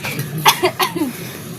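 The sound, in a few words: coughing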